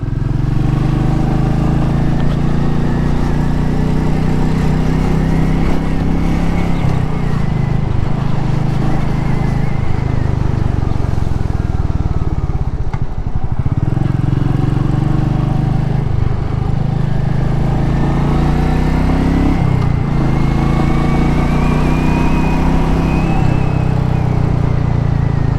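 A Royal Enfield motorcycle engine drones steadily and loudly while being ridden, a continuous low throbbing roar with slight rises and dips in revs and no speech over it.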